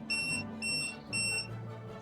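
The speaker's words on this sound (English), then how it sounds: "Excuse the beeping." Three electronic beeps from a machine switched on during cheese making, each a bright steady tone lasting about a third of a second, spaced evenly and fairly close, over a faint low hum.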